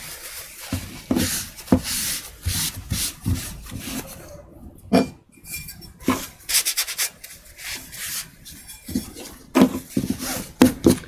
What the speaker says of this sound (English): let's move on to the polishing stone